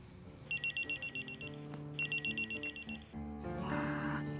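A telephone rings in two clear bursts of rapid, trilling electronic pulses, moderately quiet, followed by other background noise.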